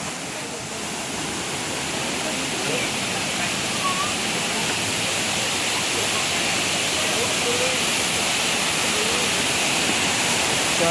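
Kedung Pedut waterfall roaring as a steady, dense broadband rush of falling water, loud and continuous throughout, with faint voices occasionally audible beneath it.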